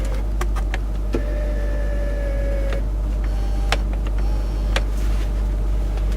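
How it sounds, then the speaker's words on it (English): The electric rake-and-reach steering column of a 2008 Range Rover Vogue HSE TDV8 whirs steadily for about a second and a half over the low idle hum, with a few sharp clicks before and after. "It has an electrical rake and reach steering wheel."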